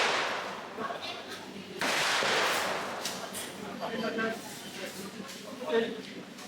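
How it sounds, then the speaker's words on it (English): Gunfire from AK-47s and other guns at a shooting range near the Cu Chi Tunnels, sharp distant cracks scattered among people talking nearby. "you can still hear how loud the bullets are"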